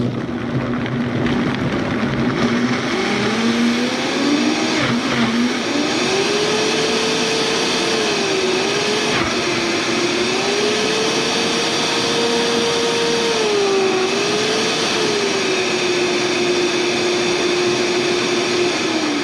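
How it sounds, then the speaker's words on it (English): An eight-year-old electric kitchen mixer whirs steadily with its top on, a loud continuous motor drone with a wavering whine that shifts pitch while processing food, running alone without talk. "And now we're gonna put the top on it. I'm telling you, I love this mixer."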